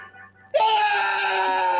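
A sudden loud, sustained high scream in a horror movie trailer, bursting in after a quieter lead-in and holding steady to the end.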